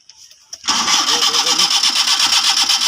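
A broken-down car on a roadside is cranked after being pushed, the starter churning steadily and loudly for over two seconds without the engine catching.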